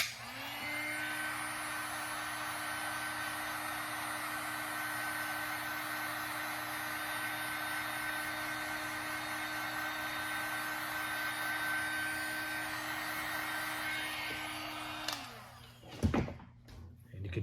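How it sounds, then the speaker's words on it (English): A heat gun blows with a steady, loud whirring roar for about fifteen seconds while drying filler, then switches off, followed by a few handling clunks. "if you take a heat gun or a hair dryer, it'll dry it faster."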